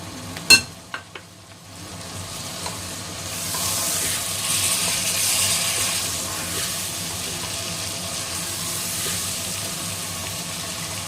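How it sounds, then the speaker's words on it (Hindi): Finely chopped tomatoes drop into okra frying in a pan for dahi pyaz wali bhindi, giving a brief clatter and then a steady, close sizzle with soft stirring that runs throughout without talk. "अब हम इसमें बारीक कट किए हुए टमाटर शामिल करेंगे।"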